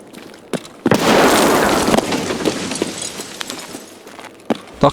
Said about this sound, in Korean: 수류탄 던져서 확인해 볼게요